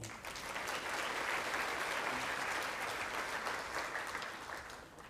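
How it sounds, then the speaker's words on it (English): An audience at an awards banquet applauds steadily for several seconds, a dense crackle of clapping that swells slightly and then begins to fade. "One big round of applause for Jean Glowacki."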